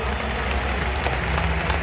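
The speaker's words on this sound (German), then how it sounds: "Ja, komm mal applaudieren." Stadium crowd at a Bayern Munich versus Barcelona Champions League match, a steady dense wash of applause and crowd noise filling the space without a break, no distinct voices standing out.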